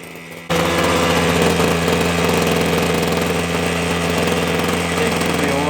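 A TITAN petrol hedge trimmer engine running on half choke while warming up, a steady close buzzing drone that starts abruptly after a moment of quiet and holds constant throughout.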